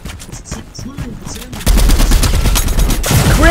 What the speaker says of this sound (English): Yeah, I know, Chris, I'm in a gunfight.